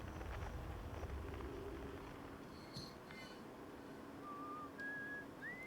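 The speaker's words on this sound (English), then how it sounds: "He's the guy on the moon that's whistling." A thin, wavering whistled melody from a character on a moon in the Outer Wilds video game drifts in faintly, heard through a signal scope over low static hiss and wind-like noise, rising in short tones near the end.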